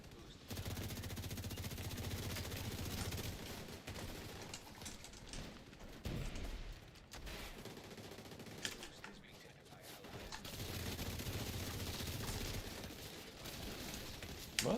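Rapid turret gunfire in The Division 2 PvP, a steady faint rattle of automatic shots running throughout, mixed with game ambience and distant effects.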